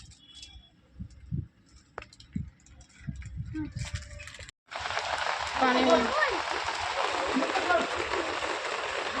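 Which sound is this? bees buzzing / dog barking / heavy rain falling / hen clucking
heavy rain falling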